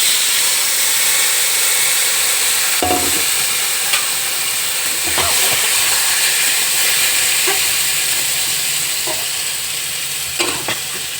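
Water rinsed from a bowl goes into a hot kadai of onion, cumin paste, ginger and garlic for a Bombay duck fish dish, giving a loud, sustained sizzling hiss with occasional stirring scrapes and no talk.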